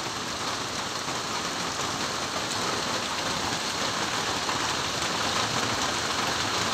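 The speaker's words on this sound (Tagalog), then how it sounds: "Bugnaw ug tinaw ang ulan." Steady rain falls in a dense, even patter of drops on surfaces, loud and close throughout with no voices.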